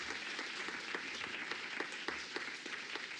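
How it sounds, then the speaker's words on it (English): An audience at the Copernicus C3S general assembly, a conference, gives a steady round of applause with distinct individual claps standing out above the dense, moderately loud clapping. "So give him an applause."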